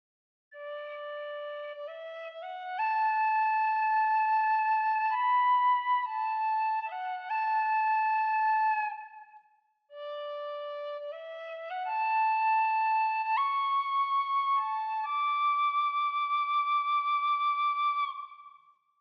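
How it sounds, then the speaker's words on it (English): An Embertone Shire Whistle sampled tin whistle plays a slow, clear melody with gentle vibrato, in two phrases separated by a short pause, with no other sounds. "working with the Shire Whistle normal vibrato patch"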